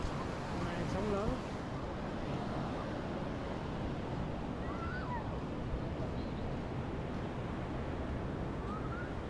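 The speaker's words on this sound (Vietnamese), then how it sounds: "Sóng lớn." Big sea waves rolling onto Vung Tau beach in Vietnam, a continuous broad wash of surf and wind at steady loudness with no clear voice.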